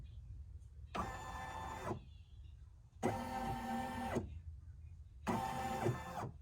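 A Baby Lock embroidery machine drives its hoop back to the center in three separate whirring motor bursts with steady whining tones, each about a second long, separated by short quiet gaps.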